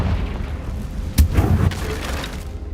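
A Confringo blasting spell explodes in the Hogwarts Legacy video game, a single sharp boom with a brief crackling burst, heard over steady game ambience.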